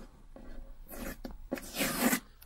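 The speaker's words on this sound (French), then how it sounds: "enlever le scotch de protection" Short bursts of protective sticky tape being peeled off equipment in a camper van, a few quick rips followed by a longer tearing pull, close and fairly quiet.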